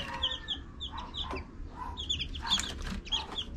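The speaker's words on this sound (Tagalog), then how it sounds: "pag napisa yung mga sisiw dyan sa loob ng incubator" Newly hatched chicks peep inside an incubator in a steady chorus of high, thin chirps that overlap close by. Faint clucking and a soft background hum run underneath, and no one speaks.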